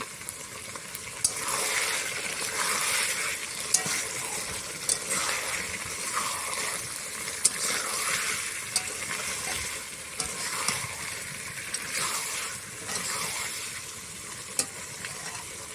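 Chicken pieces sautéed and stirred in a pot over a low flame, a soft continuous sizzle broken by regular scraping strokes of a spoon and small metallic taps, with no voices.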